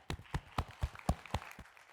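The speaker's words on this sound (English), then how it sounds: "Sorry, that was polite applause." Polite applause at a World Bank panel as the moderator is introduced: sparse, distinct claps from a few people, quiet and distant, roughly evenly spaced, then tapering off within two seconds.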